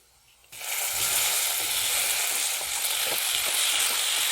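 Gooseberries for pickle drop into a hot pan with wilted kanthari chillies and are stirred. A steady, loud sizzle starts suddenly and carries on, broken by soft scraping stir noises.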